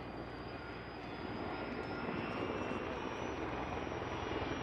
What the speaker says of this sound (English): That is a sky crane made by Sikorsky, and it's a Type 1 helicopter, so it carries a large amount of water.